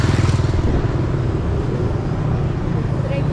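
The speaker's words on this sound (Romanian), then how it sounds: "După motocicleta asta." A motorcycle passes close by in busy Phuket street traffic in Thailand, its engine a loud steady drone that swells at the start and then holds under the general road rumble.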